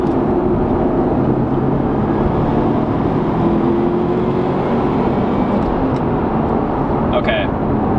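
A 2013 Subaru STI with a COBB tune pulls hard in third gear, its engine a loud, steady droning roar heard from inside the cabin for the whole stretch, with no talk over it.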